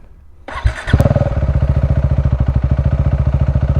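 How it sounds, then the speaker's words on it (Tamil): A 390 motorcycle with its exhaust removed cranks and fires up close by, then settles into a loud, raw, rapidly pulsing idle with a harsh mechanical clatter. "அண்ட் எக்ஸாஸ்ட் நோட் கேட்போமா"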